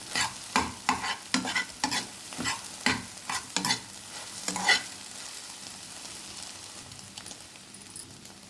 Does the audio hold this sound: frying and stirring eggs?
yes